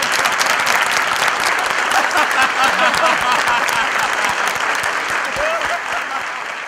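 An audience at a Gujarati comedy and poetry performance bursts into loud, sustained applause, a dense wash of clapping that fills the whole stretch and tapers slightly toward the end.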